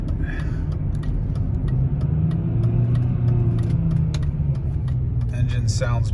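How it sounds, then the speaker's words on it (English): Steady low drone of a six-speed BMW X5 sport package engine held in second gear while driving over rutted roads, a constant rumble with mild rise in pitch, with faint clicks and brief interior noises on top. "Engine sounds great."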